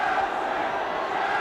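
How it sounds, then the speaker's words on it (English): A Chelsea football crowd roars in a packed stadium after a goal against Watford in 1969–70, a dense, steady wall of cheering and shouting that holds loud and unbroken throughout. "there's the Chelsea crowd. At last, something for them to cheer."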